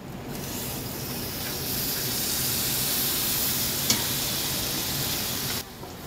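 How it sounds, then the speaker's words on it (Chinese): Curry sauce with boneless free-range chicken thighs bubbling hard in a pot, a steady close hiss and sizzle with crackling bursts that runs on evenly, then drops off sharply near the end. "事先熬好的咖喱酱汁爆香煮到沸腾"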